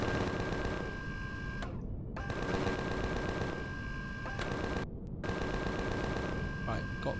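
Rapid machine gun bursts rake a troop transport in Empyrion Galactic Survival, long rattling strings of shots broken by two brief pauses, loud and close with a steady mechanical hum underneath.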